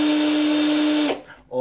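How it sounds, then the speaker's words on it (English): A power drill runs at full speed with a steady, loud high-pitched whine, then cuts off abruptly partway through, leaving a brief quieter tail. "this drill's wide open right now, and you see it's just whipping out real fast"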